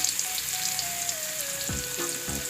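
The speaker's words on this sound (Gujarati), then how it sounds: "હવે લસણ તેલ પણ થઈ ગયું છે તો લસણ નાખીશ તેલમાં એને બરાબર પકડવા દેવાનું" Crushed garlic dropped into hot oil while tempering parwal (pointed gourd) curry, giving a steady broadband sizzle throughout, with a few soft clatters of utensils near the end and a faint tonal hum in the background.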